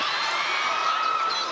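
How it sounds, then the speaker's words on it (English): A crowd at a women's professional volleyball match in the Philippines yells loudly and steadily after a dig, a brief, dense burst of cheering. "crowd yelling at every dig"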